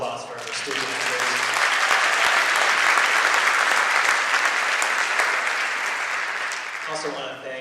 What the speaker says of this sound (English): how about one more round of applause for our students